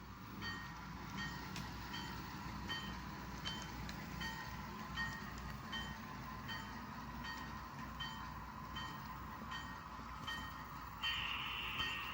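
Freight rail cars being switched, rumbling and clanking along the tracks, with rhythmic metallic clicks and a steady low drone, and a squeal near the end.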